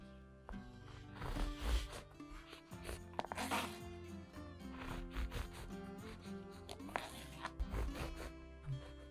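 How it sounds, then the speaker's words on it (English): A knife saws through buttered ciabatta spread with white bean paste, cutting it into pieces. Crisp crust crunches and scrapes come in short bursts with soft thumps of the blade on the board, close and without talk. "And then cut that into 5 or 6 pieces."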